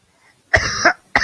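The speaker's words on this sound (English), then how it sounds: "Bad cough, brother." Two harsh coughs close to the microphone, the first a double hack, followed by a third shorter cough after a brief pause.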